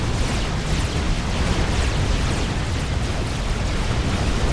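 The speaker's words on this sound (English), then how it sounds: "And those gunships are still firing at him." Gunships firing in the real-time strategy game Supreme Commander: Forged Alliance during a 4v4 battle, a loud, dense roar of weapons fire and explosions that continues without a break.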